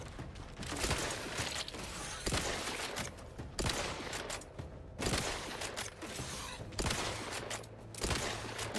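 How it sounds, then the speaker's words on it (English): Heavy shotgun blasts and rapid gunfire from a firefight in the video game Outer Worlds 2, several loud bursts in an uneven rhythm with mechanical clicks and creaks between shots. "Now that's a shotgun."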